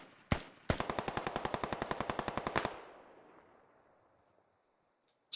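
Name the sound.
Russian gunfire in video game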